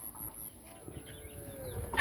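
A hen clucks softly in a few short, faint calls at a farmyard, with low background noise and a slightly louder sound at the very end.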